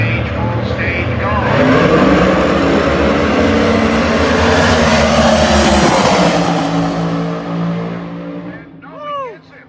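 Nostalgia hot rods launch at a California Hot Rod Reunion drag race final, with open headers. A loud, close engine roar runs continuously for several seconds, then fades as the cars pull away down the strip. Voices may be present under the engine noise.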